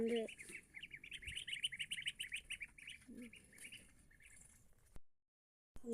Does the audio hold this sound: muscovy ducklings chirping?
yes